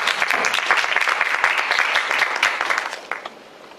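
An audience applauds the speaker at the close of a lecture by Prof Aram Ziai: a lively, dense patter of many hands clapping that thins out and fades near the end.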